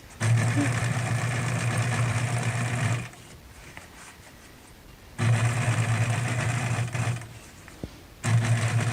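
A sewing machine top-stitches along the edge of a hospital mask seam, running in a steady mechanical whir for a few seconds. It stops, runs again, pauses briefly and then restarts, loud and close.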